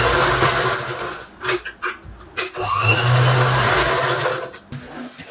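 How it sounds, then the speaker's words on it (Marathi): A sewing machine motor whirs steadily as it stitches all the way around the edge of a cloth seat cover for a low wooden stool, running close and fairly loud with a few brief pauses and changes in speed. "आता पूर्ण आपण चौफेर अशी शिलाई करून घेऊया"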